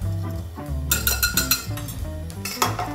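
Dry ingredients for corn cakes stirred together in a bowl, with chili powder among them, giving a run of quick clinks and scrapes of a utensil against the bowl, close and fairly loud, with no talk.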